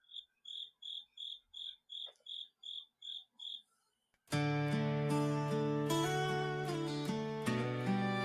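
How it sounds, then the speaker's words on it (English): Crickets chirp outside an open window in a steady, evenly spaced run of about ten bright pulses. Loud music abruptly cuts in and takes over. "Close your window. You got fucking crickets, bro."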